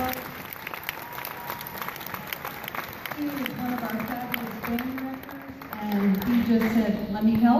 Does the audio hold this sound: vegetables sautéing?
no